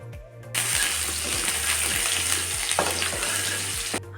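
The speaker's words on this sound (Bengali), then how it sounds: "এরপর এখানে মুগ ডালটা ভাজবো।" Mung dal frying in a pan for khichuri, a loud continuous sizzle close up with a low rhythmic hum underneath and a few small clinks of stirring.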